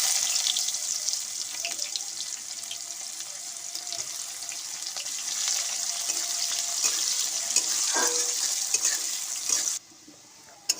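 Chopped onion sizzles in hot oil with whole garam masala spices in a pan for a Bengali chicken and potato curry, a steady bright hiss that holds close and fairly loud before cutting off abruptly near the end.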